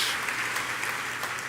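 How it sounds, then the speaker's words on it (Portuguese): Congregation applause at a church service, a brief, fairly faint, even patter of many hands clapping with no speech over it. "Dá aí outra salva de palmas ao nosso Senhor Jesus"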